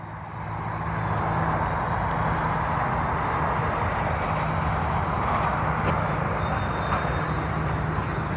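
An E-flite twin 30mm EDF B-2 bomber RC plane flies with a steady, loud whine and rush from its ducted fans that holds unbroken for several seconds, with a faint pitch shift near the end.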